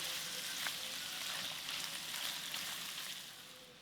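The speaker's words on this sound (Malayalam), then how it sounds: "ചൂടായി കിടക്കുന്ന എണ്ണയിലോട്ട് ഈ ചിക്കൻ പീസസ് നമുക്ക് ആഡ് ചെയ്ത് കൊടുക്കാം" Boneless chicken pieces fry in hot oil in a wok, giving a soft, even sizzle that stays low and constant throughout with no voices.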